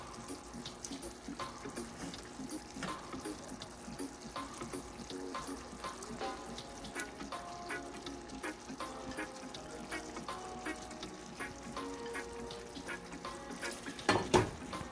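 Smoked herring frying in a pan, a steady low crackling sizzle with scattered clinks and scraping as ingredients are added and stirred, ending in a sharper clatter.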